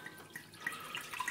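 Sweet and sour mix poured into a gin basil highball at a bar, a soft steady liquid stream with light splashing and trickling, faint and brief.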